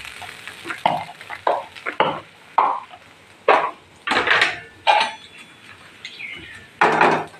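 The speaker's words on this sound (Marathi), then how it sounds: "त्याला मस्तपैकी तळून घ्यायचं आहे." A sweet mixture frying in a pan while being stirred, repeated scraping strokes at a steady rhythm over a soft sizzle, close and fairly loud.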